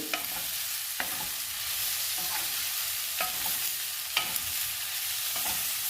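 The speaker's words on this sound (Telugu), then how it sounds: "ఈ చింతపండు, కరివేపాకు కూడా వేయించుకుందాము 2 నిమిషాలు" Tamarind and curry leaves frying in a pan for pickle, a steady soft sizzle with periodic scraping strokes of a stirring spoon, close and without talk.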